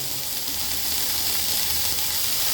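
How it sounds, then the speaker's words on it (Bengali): Thinly sliced potato drops into a pan with already-fried onion, bringing up a loud, continuous sizzle and hiss close by. "এই আমি আলুটা দিয়ে দিলাম"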